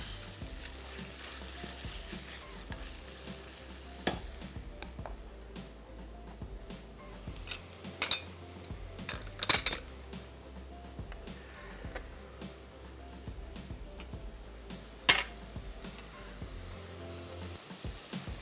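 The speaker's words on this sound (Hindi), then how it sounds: "और चिकन को खूब अच्छे से इसको पका लें आप" Chicken and pasta cook in a pan with a continuous low sizzle, broken by occasional sharp clacks and scrapes of stirring, close by and without talking.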